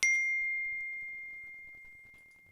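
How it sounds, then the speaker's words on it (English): A single bright phone text-message chime rings out clearly at the start and fades slowly over a couple of seconds, with no other sound around it. "let me turn off my text message noises."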